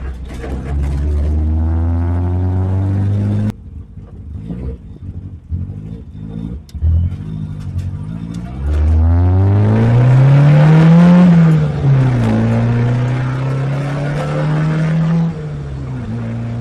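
A Toyota Corolla AE71 engine being tuned revs at quarter to half throttle, rising and falling in pitch through several loud, close sustained pulls, with gaps of idle and clicks between them and no talk.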